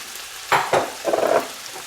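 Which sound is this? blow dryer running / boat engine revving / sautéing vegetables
sautéing vegetables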